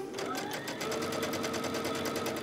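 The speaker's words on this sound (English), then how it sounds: "Behind her sewing machine, Melinda is truly on a mission." An electric sewing machine hums steadily with a fast, even mechanical stitching rhythm, running close and loud throughout without pause.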